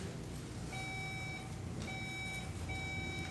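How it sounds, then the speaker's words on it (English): Three electronic quiz-competition buzzer tones ring out over a steady background noise, each a sustained bright beep lasting under a second, with short gaps between. "let's do one quick buzzer check one more time."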